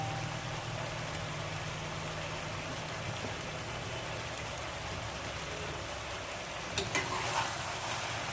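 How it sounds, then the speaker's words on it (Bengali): Cauliflower fries in a pan for a hot roast, a continuous close sizzle and crackle with a faint low hum underneath and a slight rise in crackling near the end. "ভাজা ভাজা হচ্ছে"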